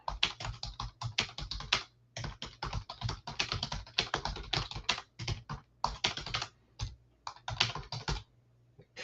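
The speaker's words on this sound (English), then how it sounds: "Let me type this out so people can join the earnings call with the CEO if they want to." Fast, steady typing on a computer keyboard fills the scene, bursts of close, crisp key clicks separated by brief pauses, with no talking.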